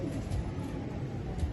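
Soft, low pigeon cooing murmurs steadily through the short stretch, faint and close, with no talking.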